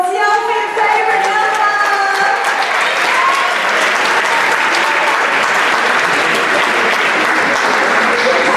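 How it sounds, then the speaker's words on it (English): A crowd at a same-sex youth standard ballroom dance event applauds loudly and steadily, a dense wash of clapping that fills the whole stretch without letting up. "Give them a round of applause"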